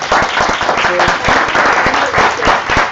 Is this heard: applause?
yes